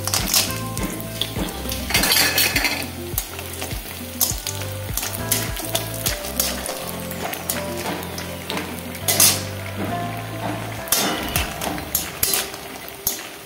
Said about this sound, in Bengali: একটু লালচে লালচে করে ভাজতে হবে কলাইয়ের বড়িগুলো।